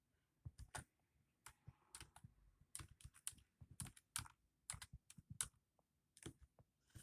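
Quick, irregular tapping and clicking of typing on a phone, close and fairly quiet, in short bursts with brief pauses and no talking.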